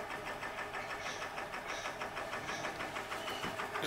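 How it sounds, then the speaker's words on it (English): A Huxtable Stirling hot air engine made by Olds Engineering of Maryborough, Queensland, running steadily with a quiet, rapid, even mechanical pulsing and light clatter, faint and continuous with no voices. "The Huxtable hot air engine made by Olds Engineering up in Maryborough, Queensland."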